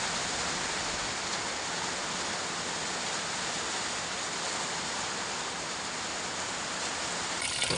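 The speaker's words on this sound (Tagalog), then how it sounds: "Grabe yung ulan mga boss." Heavy rain falls steadily during a rainy day, a dense, continuous hiss with no pauses, fairly loud and alone.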